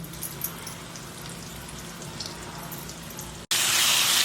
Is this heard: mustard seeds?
yes